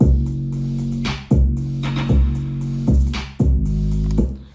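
A heavy, bass-laden rap beat thumps in a repeating pattern with deep sustained bass notes and crisp percussion hits, played loud and clear without any voices.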